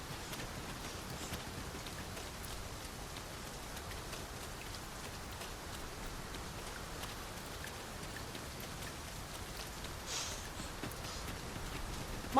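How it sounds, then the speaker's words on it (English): Steady rain in the video game Dragon's Dogma 2 falling and pattering on surfaces, a continuous dense hiss with no voices. "Mind the rain"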